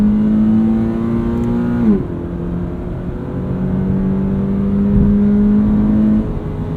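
2017 Toyota 86 with automatic transmission on a racetrack circuit, engine note rising steadily under acceleration, dropping briefly at a gearshift, then climbing again in a close, continuous drone.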